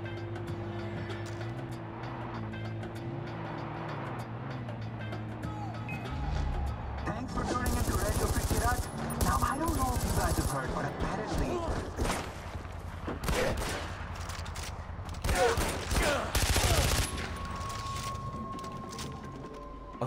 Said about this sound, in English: There's a gunfight going on down here, too.